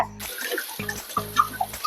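Tamarind water, a gooseberry-sized lump of tamarind dissolved in water, is poured into a pot of Annapoorna-style sambar. It makes a steady, close splashing trickle in a few short bursts, with no talking.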